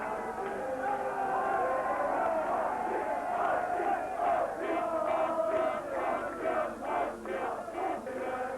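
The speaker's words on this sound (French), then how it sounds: "Il y avait foule sur le quai pour accueillir les héros de la veille." A crowd on a railway station platform welcoming the Anderlecht football players, massed voices shouting and chanting in rising, rhythmic waves, loud and reverberant with no single speaker standing out.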